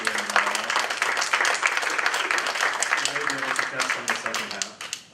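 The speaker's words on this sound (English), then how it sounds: "Why don't we do a round of applause for Robin Carnahan" An audience claps at the close of an event, a steady round of applause from many hands while a voice talks over it, tapering off at the end.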